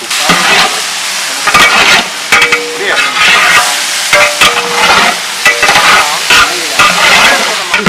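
Carrots, beans and potatoes stir-fry in a pan with softened tomatoes, heard as loud, close scraping strokes in an irregular rhythm over a bright sizzle.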